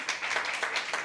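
Audience applause at a Philippine International Literary Festival session, a short burst of dense, steady clapping from a room crowd, moderately close and even in level.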